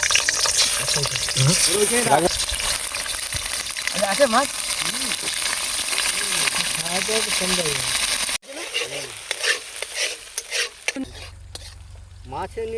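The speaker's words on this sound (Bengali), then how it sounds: "আজ এখান থেকে ধরা হচ্ছে আর কড়াই দিনে ভাজা হচ্ছে" Freshly caught river fish fry in hot oil in a wok at an outdoor riverside camp, a continuous loud sizzle and hiss with stirring sounds, while people talk over it; the sizzle thins near the end.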